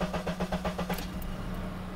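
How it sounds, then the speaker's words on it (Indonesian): A second-generation pre-facelift Honda CR-V AWD engine cranks with a rapid series of rhythmic pulses that are slow to catch, then settles into a steady low running drone, heard close and fairly quiet. "Nyalain dulu mesinnya."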